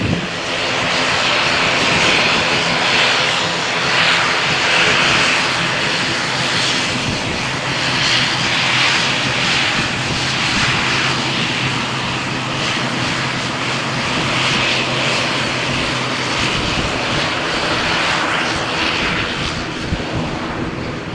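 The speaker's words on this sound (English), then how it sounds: "Air Nostrum flight to Melilla is now taxiing for takeoff. Now it gets a bit louder." Air Nostrum airliner bound for Melilla taxiing for takeoff at Malaga Airport on a stormy morning, a steady, loud engine roar and whine holding throughout with wind buffeting the microphone and no talk.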